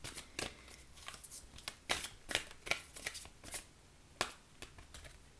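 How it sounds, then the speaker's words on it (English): Oracle cards being shuffled and pulled by hand, a series of soft, close riffling and slapping card sounds in irregular bursts, fairly quiet with no talking. "let's pull you an oracle card"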